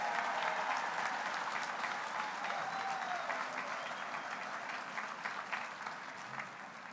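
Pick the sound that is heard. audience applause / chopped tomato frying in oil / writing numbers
audience applause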